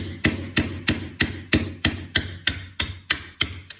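Twelve sharp, evenly spaced hammer blows knocking a well-glued plywood chunk out of a drill press table, each a loud close wooden crack with a short ringing decay.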